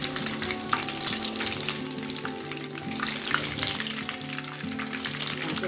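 Tofu fries in hot oil in a pan, a loud steady sizzle and crackle that runs continuously, close up, with no one talking.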